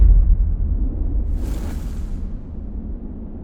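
An atomic bomb explosion sound effect from a school drama: a heavy low rumbling boom that rolls on and slowly fades, with a brief airy burst midway.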